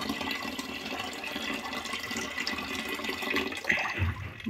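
Panchayat supply water runs from a tap with a cloth tied over the spout, a steady close rushing splash with no voices.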